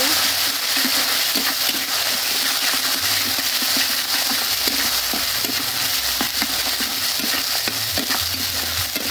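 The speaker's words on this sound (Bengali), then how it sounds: "হলুদের গুঁড়া আর অল্প একটু কাশ্মীরি লঙ্কার গুঁড়া। এবার সুন্দর করে কষিয়ে নেব।" Turmeric and Kashmiri chili powder spice masala frying in oil, a steady dense sizzle with scraping stir strokes throughout, close and fairly loud.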